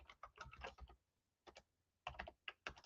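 Typing on a computer keyboard: quick bursts of close key clicks separated by short pauses, quiet and alone without speech.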